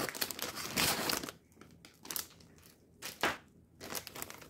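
A plastic food bag for a Foodsaver vacuum sealer is cut and handled, making close crinkling and crackling bursts with quieter gaps in between, and no voices.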